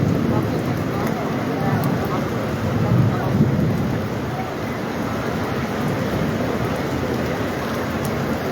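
Heavy rain pouring after Friday prayer at Masjid an-Nabawi in Medina, a dense steady roar of rainfall with low rumbling underneath, loud and continuous throughout.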